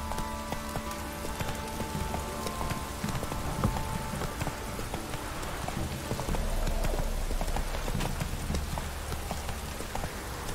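Horse hooves clip-clop in The Witcher III as the mount trots through rain, a steady, rhythmic beat under a constant wash of rainfall.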